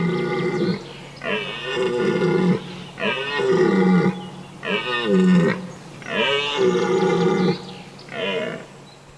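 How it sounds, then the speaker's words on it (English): Red deer stags in full rut bellow in long, deep, loud roars, one after another with short pauses between, in an autumn forest in the northern Vosges. "In full rut, belling or roaring loudly, stags challenge their opponents"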